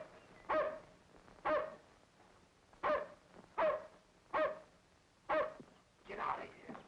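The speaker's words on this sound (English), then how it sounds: "But you can't let him bark." A dog barks in a 1937 crime drama, about seven evenly spaced barks each followed by a short tail, fairly close and alone with no talk over it.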